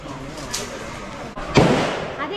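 A single gunshot rings out at the Cu Chi Tunnels shooting range in Vietnam and trails off in a decaying echo, heard amid background chatter.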